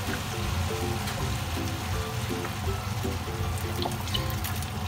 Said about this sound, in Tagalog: Maglagay na po tayo ng toyo.